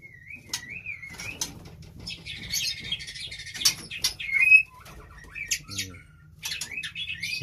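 A breeding songbird, a former contest-winning male, chirps and squawks close by in a continuous stream of bright calls and trills over a low steady background hum.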